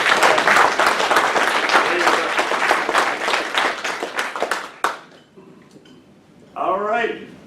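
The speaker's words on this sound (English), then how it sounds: "let's give Chip a big round of applause" A round of applause from attendees at a Rotary club meeting, loud dense clapping for about five seconds that then stops abruptly, followed by a quiet pause and someone speaking.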